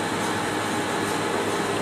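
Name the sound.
mechanical vacuum pump running on a high vacuum coater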